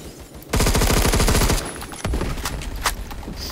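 Rapid automatic gunfire in the shooter game Phantom Forces, a loud burst of about a second followed by scattered single shots and distant game noise.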